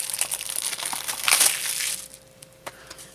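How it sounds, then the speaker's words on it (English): Plastic shrink-wrap crinkles and tears as a packaged retro video game is unwrapped up close, a busy crackling burst that peaks midway, then thins to a few faint rustles. "So first up, I got to unwrap"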